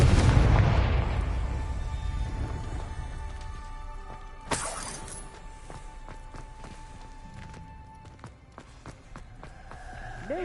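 The Confringo blasting spell goes off as a loud, close boom right at the start, then rumbles away over a few seconds. A sharp crack follows, then scattered footsteps and small clicks.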